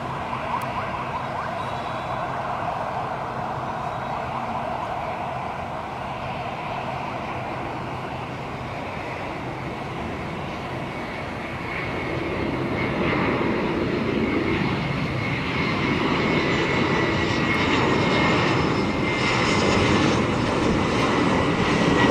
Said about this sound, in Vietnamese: mời mọi người chiêm ngưỡng phá hạ cánh của chiếc Airbus A321 đặc biệt này nha